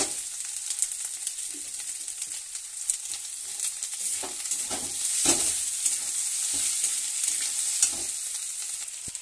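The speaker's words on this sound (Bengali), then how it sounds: "টমেটো দিয়ে ভালো করে আমি কষিয়ে নিচ্ছি।" Tomatoes frying with turmeric in a pan for papaya chicken curry, a bright steady hiss of sizzling oil with repeated spatula scrapes and stirs, close up and without any voices.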